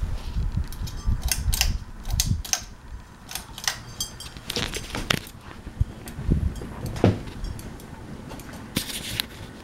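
A Hampton Bay Cameron II ceiling fan spins on its high setting, with irregular clicks, ticks and rattles over a steady low hum, close by and fairly quiet.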